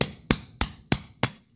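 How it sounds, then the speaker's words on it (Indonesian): A hammer drives out a swingarm bushing on a Honda CB150X, five evenly spaced, sharp metallic blows ringing out close up, each one decaying quickly before the next. "kita palu pelan-pelan ya"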